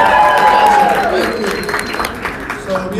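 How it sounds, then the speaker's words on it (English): Applause from the audience at the Simply SaaS Forum in Atlanta, a steady wash of clapping mixed with voices and tonal sounds, fading slightly toward the end. "Round of applause, guys."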